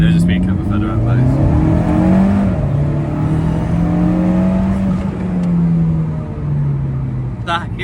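Tuned Alfa Romeo 4C sports car accelerating hard: a loud, close engine note climbs in pitch through the revs, drops at a gear change, then rises again, with the occupants talking over it from inside the cabin.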